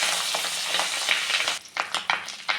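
Fish roe frying in hot oil in a kadai as it is flipped, a steady broadband sizzle with a few scraping stir bursts and a brief dip when the pieces are turned.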